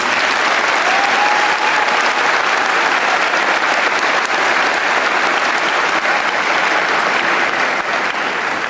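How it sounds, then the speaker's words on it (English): A graduation audience gives a long, loud, steady round of applause for the school staff, including building service, cafeteria and security workers and faculty, dense clapping filling the hall with no pause. "Let's give all of them a nice round of applause."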